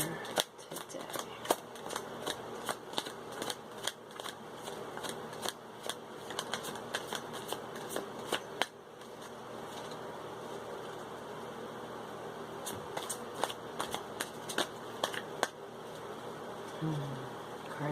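A deck of playing cards is shuffled by hand in a quiet room, giving bursts of crisp riffling flutters and soft card clicks that repeat in short runs.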